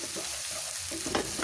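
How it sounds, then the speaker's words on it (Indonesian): Spices sautéing in a pan, a soft steady sizzle with the scrape of a spoon stirring through, close and continuous for a second and a half. "Kemudian diaduk-aduk kembali hingga semuanya tercampur merata."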